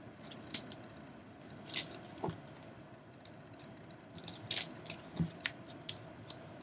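Tarot cards shuffled and cut on a table, with soft riffling and slapping bursts, a couple of sharper taps, all over a quiet room hum and no talking.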